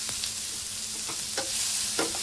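Onion and tomato sizzling in a hot pan, heard close and steady, with several short scraping stirs of a spatula breaking through the hiss at irregular intervals.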